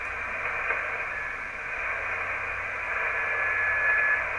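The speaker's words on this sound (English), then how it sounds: "I do hear a tone in there, like somebody's tuning" Received on a Heathkit HW-101 ham radio receiver, a thin steady tuning tone rides inside continuous hissing static and grows more distinct toward the end, with no speech.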